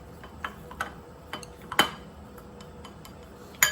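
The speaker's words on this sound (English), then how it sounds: "mix the noodle." Noodles for Indonesian-style chicken bakmi are stirred in a pot, giving a few scattered clinks and taps of utensil against cookware, fairly faint and spaced apart, with no voices.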